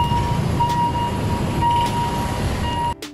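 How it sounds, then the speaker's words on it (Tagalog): A train rumbles past nearby in the Divisoria area with a loud, continuous rolling clatter and faint high wheel tones. It ends in a sudden drop-off with a clunk. "Tingin ang train."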